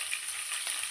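Whole cumin, whole garam masala and dried red chillies crackle and sizzle in hot oil, a steady, close, bright frying hiss throughout with no voices.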